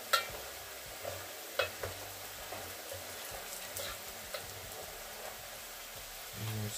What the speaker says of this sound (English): I'm going to let them fry as I keep on stirring.